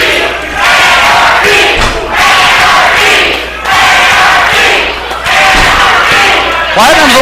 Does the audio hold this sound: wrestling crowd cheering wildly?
yes